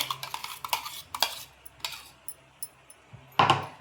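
Thick mango papad pulp is stirred in a pan, a series of sharp metallic scrapes and clinks from the spoon against the pan at an uneven rhythm, close and fairly loud, with no talk.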